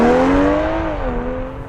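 A 2021 BMW M440i launches hard, its engine note loud and close, rising in pitch through the revs and then dipping as a gear changes, with no speech.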